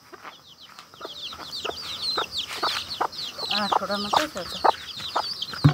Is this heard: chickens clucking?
yes